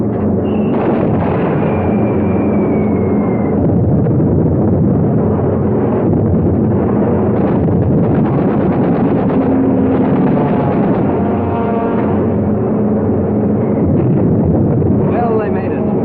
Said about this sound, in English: Direct hits with those 600-pounders of TNT blowing up right in Hirohito's face